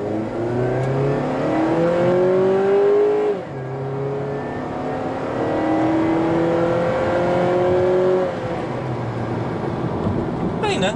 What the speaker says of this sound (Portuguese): E agora eu vou dar uma pisadinha para ver como é que ele responde